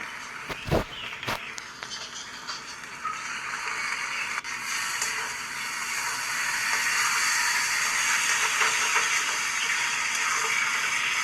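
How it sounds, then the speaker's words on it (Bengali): Cabbage cooking in a pan, a steady broad sizzle and hiss that builds slightly and holds, close and even, with a couple of brief knocks from stirring near the start. "এই বাঁধাকপিটাও প্রায় রান্না হয়ে এসছে"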